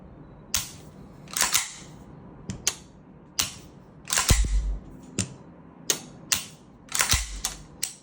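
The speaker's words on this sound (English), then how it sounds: "We'll just go over a trigger pull." Dry trigger pulls on a Sig MPX rifle fitted with a Timney flat-face single-stage trigger: about a dozen sharp mechanical clicks and snaps, spaced irregularly, close and crisp in a quiet room.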